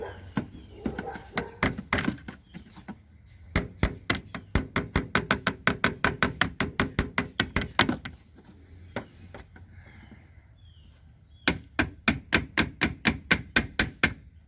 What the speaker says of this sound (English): Nobody laugh at my puny little hammer. It's gonna work just fine for this job.